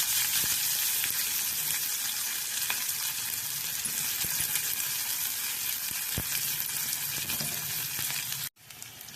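Garlic, capsicum and spring onions stir-frying in a pan for a roadside-style mushroom masala gravy, giving a steady, loud sizzle with scattered crackles and stirring scrapes throughout, cutting off briefly near the end.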